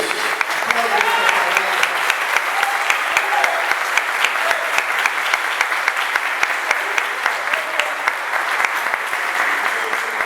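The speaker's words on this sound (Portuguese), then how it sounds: "Vamos aplaudir a palavra de Deus." A church congregation claps after the reading of the Gospel, steady dense applause filling the whole stretch at close range, with no voices standing out above it.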